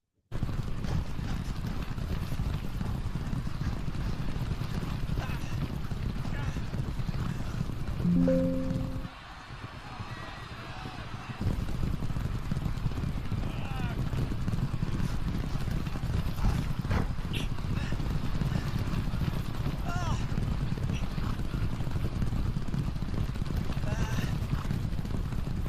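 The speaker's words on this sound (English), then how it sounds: "So as you're seeing, Seabiscuit, the horse, is falling significantly behind." The racehorse Seabiscuit galloping in a race, a steady, fast clip-clop of hooves with crowd-like background noise, continuous and fairly loud apart from a brief lull midway.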